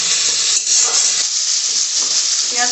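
Chopped onions with a little salt and turmeric fry in a pan for a red lentil chorchori, giving a loud, steady, close sizzle that hisses on without a pause and with no voices.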